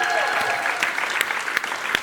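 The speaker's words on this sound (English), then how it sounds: "Round of applause." Applause from a conference audience at a gaming event as a company CEO is introduced, dense steady clapping throughout with a few louder individual claps standing out near the front.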